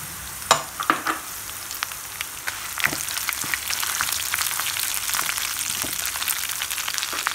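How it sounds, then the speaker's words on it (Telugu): Fenugreek, cumin and coriander seeds crackle and sizzle in hot oil in a nonstick kadai, with a few sharp pops early on, then a steady bright frying hiss that carries on alone to the end. "The oil is heated up. Now I'm adding methi seeds, jeera, dhaniya"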